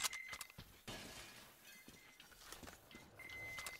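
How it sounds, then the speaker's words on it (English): Glass windows being smashed in the post-apocalyptic shooter Metro Exodus, several sharp shattering crashes spread across a few seconds, with tinkling debris and a steady high ringing tone underneath. "Somebody's smashing windows over here."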